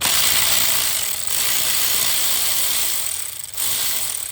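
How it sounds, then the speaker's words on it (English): A ratchet clicks steadily as valve cover studs are backed out on a GMC Yukon engine during gasket replacement, close and continuous with a couple of brief pauses, no talking. "Then we're gonna start removing the studs."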